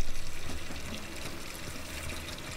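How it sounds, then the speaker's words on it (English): A tap runs in Untitled Goose Game, a steady, soft stream of water splashing and trickling continuously at low volume. "Turn on the water."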